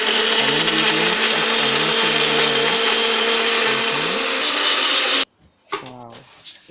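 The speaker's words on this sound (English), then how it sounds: "We are on our blender trying to blend some ingredients" A kitchen blender grinds ingredients for Ghanaian palm nut soup, a loud, steady motor whir with slight pitch wobbles running for about five seconds before cutting off abruptly, after which a person begins speaking.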